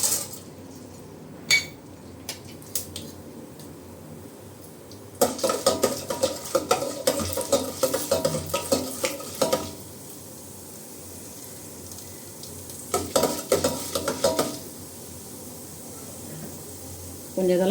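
Mustard seeds, urad dal and chana dal going into hot oil for cucumber rice tempering, quiet at first, then bursts of crackling and spluttering with a few utensil clinks, close and moderately loud.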